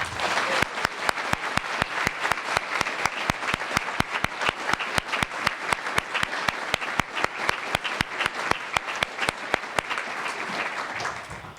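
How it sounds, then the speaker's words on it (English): A large crowd at a university athletics hall of fame ceremony claps in sustained, dense applause, loud and close, holding steady for several seconds before tapering off at the end. "one more round of applause"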